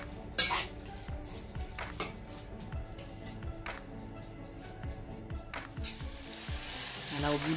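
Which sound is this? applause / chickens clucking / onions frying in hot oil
onions frying in hot oil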